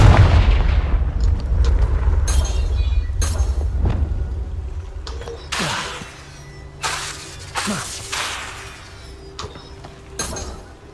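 Confringo fire spell blasts in Hogwarts Legacy, several loud booming bursts with crackling, shattering tails over a low rumbling game backdrop, spaced a second or two apart.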